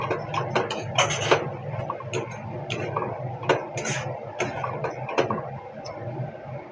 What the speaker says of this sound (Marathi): आता बघायत बटाटा घालून घेतला आहे आपण मस्त बटाटा परतून घेऊ